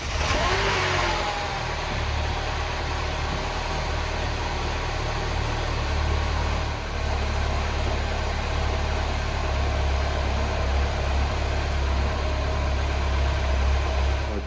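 A Mini Cooper S R56 with the N14 engine cranks and catches, then settles into a steady, close idle with a low, even hum that lasts throughout.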